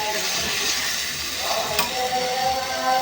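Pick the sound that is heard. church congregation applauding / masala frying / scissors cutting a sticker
masala frying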